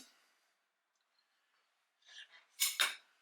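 A dollop of butter drops into a frying pan for over-easy eggs, giving two short, soft clattering bursts of utensil against pan after a long quiet stretch, with no talk.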